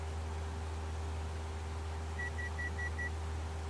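A quick series of five short, evenly spaced beeps sounds as an altitude alert in an X-Plane 11 flight simulator cockpit, faint over a steady low engine drone.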